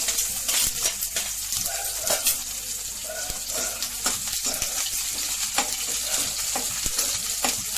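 Small onions, fennel seeds, green chillies and curry leaves frying in a pan for Thanjavur-style mutton curry, a loud, close crackling sizzle with frequent stirring scrapes and spatula clicks.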